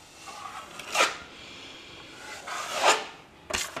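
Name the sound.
applying joint compound to a wall corner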